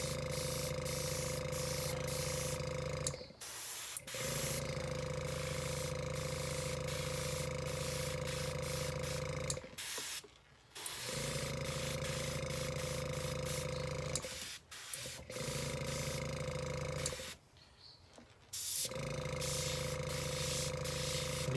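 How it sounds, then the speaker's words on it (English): Close-up airbrush or spray gun hissing as paint is sprayed onto a flocked drake mallard decoy, long steady bursts broken by four short pauses, with no talk. "You can overspray a little bit to try and blend not overspray, but blend the color changes together a little bit."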